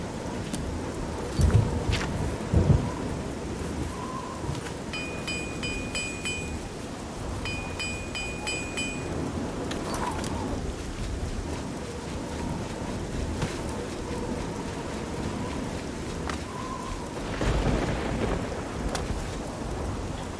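A thunderstorm on a dark night in Oblivion, a video game: steady heavy rain hiss throughout, broken by rumbling thunder rolls and a few sharp cracks, with faint chiming tones in the middle and no talk.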